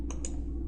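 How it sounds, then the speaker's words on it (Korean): Two quick, crisp computer mouse clicks in a double-click, close and faint over a low steady hum. "더블 클릭."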